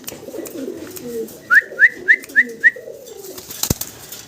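A male Pomeranian pouter pigeon coos in a run of five evenly spaced, clear calls close by, over low murmuring.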